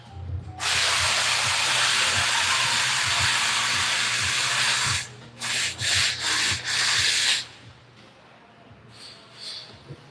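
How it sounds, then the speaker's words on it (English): Cordless electric impact wrenches rotating tires in a nearby shop bay: a long, loud, harsh burst, then several shorter rattling bursts in quick succession, and faint activity afterward. "they all use cordless impacts to rotate tires"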